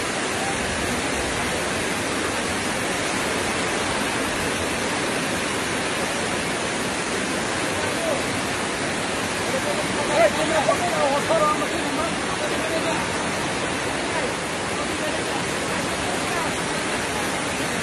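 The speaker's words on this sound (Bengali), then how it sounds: "এই বৃষ্টি মোটামুটি কমই চলে পড়ছে" Rain falls at Kuakata sea beach during a thunderstorm, a steady, dense hiss of drops that holds evenly throughout, with faint voices or chirps briefly rising midway.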